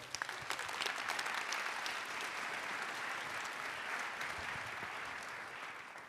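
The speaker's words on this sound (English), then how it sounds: "A round of applause for Jeff." Conference keynote audience applauding Jeff, a broad sustained clapping from a large hall, fairly distant and soft, with sharper individual claps at the start before settling into an even roar.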